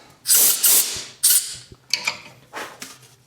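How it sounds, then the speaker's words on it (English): Several loud, close bursts of compressed air hiss in quick succession, each a short forceful blast fading out, with faint creaks between them. "Now I'm gonna squirt off the sawdust."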